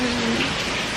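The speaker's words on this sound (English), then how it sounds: "It gets chilly when you come out here and you get the rain blowing on you." Wind-driven rain from Hurricane Delta in Louisiana, a steady close broadband wash of rain and gusting wind filling the whole second without letup.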